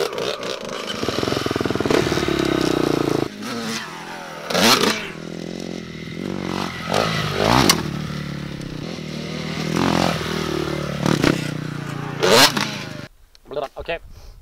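A motorcycle revs and roars through repeated throttle bursts while riding and jumping outdoors, with clattering and scraping between surges and voices talking over it.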